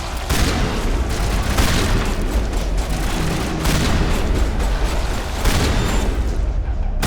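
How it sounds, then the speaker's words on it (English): Shotgun blasts boom repeatedly in the video game Mass Effect, several loud, close shots at irregular intervals over continuous combat noise. "Shotgun."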